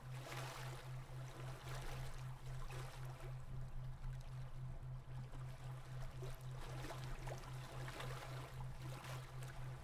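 Gently flowing water murmurs steadily beneath a low, evenly pulsing tone in a calm guided meditation, a soft continuous wash with no speech.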